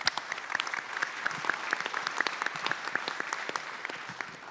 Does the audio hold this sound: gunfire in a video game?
no